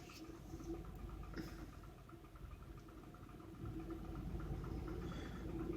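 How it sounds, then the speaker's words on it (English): An Infiniti I35 engine with a suspected fault, running under throttle with a low, steady droning hum that swells slightly in the last seconds, heard close and fairly quiet with no talk. "I have my foot on the throttle right now."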